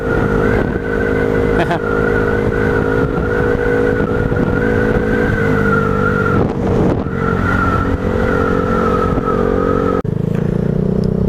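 A motorcycle's exhaust is heard on a road at night, a loud, steady engine drone that holds nearly level throughout, with a slight shift near the end and no distinct rev spikes.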